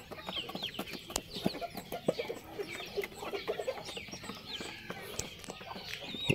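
Native chickens and chicks cluck and peep in a farm yard, with many soft, overlapping calls and cheeps that come quietly and steadily throughout.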